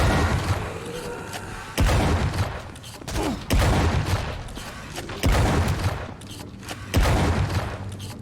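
Shotgun blasts in the shooter WRATH: Aeon of Ruin, four heavy booming shots spaced about every second and a half, each with a brief decaying tail, loud and close.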